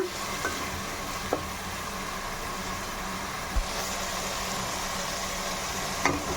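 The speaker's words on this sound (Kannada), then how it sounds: "ಟೊಮೊಟೊ ಚೆನ್ನಾಗಿ ಬೇಯಬೇಕು ಅಲ್ಲಿವರೆಗೆ ಇದನ್ನು ಚೆನ್ನಾಗಿ ಫ್ರೈ ಮಾಡ್ಕೊಳ್ಳೋಣ" Tomatoes fry in a pan for a chicken gravy, a steady low sizzle running throughout with a few faint clicks and knocks from stirring, close by and with no talking.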